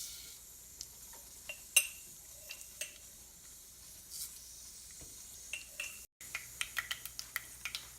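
Mustard seeds spluttering in hot coconut oil in a pan, a scatter of sharp little pops and crackles over a soft steady sizzle, growing quicker toward the end.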